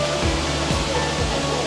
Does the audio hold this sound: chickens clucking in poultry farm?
no